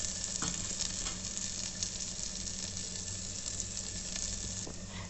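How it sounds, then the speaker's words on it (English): Roughly chopped onion fries with chana dal in an electric kettle, producing a continuous, faint sizzle with soft crackles, an underlying steady hum and a few light clicks, with no voices. "now add one roughly chopped onion and fry till light golden color"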